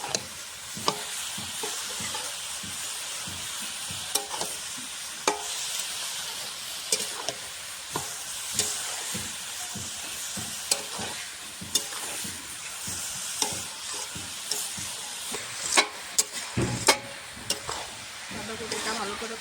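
Cabbage and potato sautéed with ginger paste, stirred briskly so a spatula knocks and scrapes the pan many times over a continuous sizzle, close and busy throughout.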